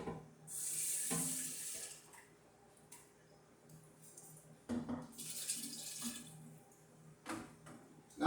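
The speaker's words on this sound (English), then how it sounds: "rinse it with hot water and I'm going to pour it in there too" Hot rinse water runs from a kitchen sink tap and is poured into a container during home winemaking of a Riesling apple wine. There are two soft splashing bursts separated by a quiet room with faint ticking.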